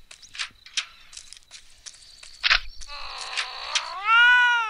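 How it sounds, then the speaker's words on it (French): A cat in the video game Postal 2, used as a makeshift gun silencer, gives several short meows followed by a long drawn-out wail, close and clear amid light clicks. "Alors là, voilà, j'ai un chat qui sert de silencieux."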